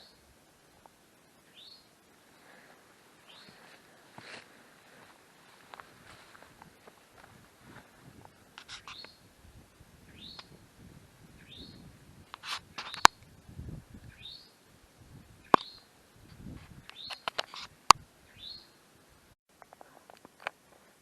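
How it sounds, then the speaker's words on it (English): Birds calling and chirping on a mountain ridge near Mt Mitchell and Craggy Gardens, repeated short rising chirps at a moderate distance, mixed with scattered footsteps and rustling, with no talking. "Birds are up here talking."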